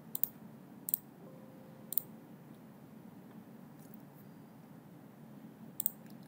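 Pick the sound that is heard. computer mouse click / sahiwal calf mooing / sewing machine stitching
computer mouse click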